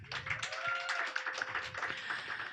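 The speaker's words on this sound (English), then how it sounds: "Round of applause for Mikhailo." Audience applause for a stand-up comedian at a comedy hall in Lviv, a light scattered patter of clapping hands from a small crowd with a faint sustained tone underneath.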